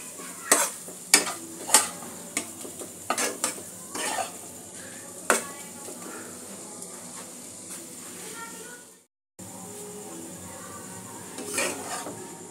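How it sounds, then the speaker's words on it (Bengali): Chhana filling for chanar chop being sautéed in ghee in a pan over a low-medium gas flame, with repeated scrapes and clinks of a spatula against the pan over a soft steady sizzle. "সবকিছু গ্যাসের লো টু মিডিয়াম ফ্লেমে একটু ভালো করে কষিয়ে নেব।"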